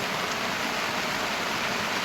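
Light drizzle falls on a seed farm as an even, continuous hiss, close and unbroken, with no voices or other sounds.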